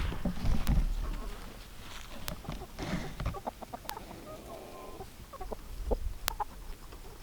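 Chickens cluck and chatter close by, with soft scratching and a few sharp clicks. Barnyard background noise runs throughout, and there is no talking.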